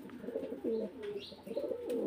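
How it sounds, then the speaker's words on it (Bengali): A group of pigeons kept loose at a seller's place coo softly in low, rolling bursts that overlap, close by, with no speech. "সবগুলা কবুতর দেখেন"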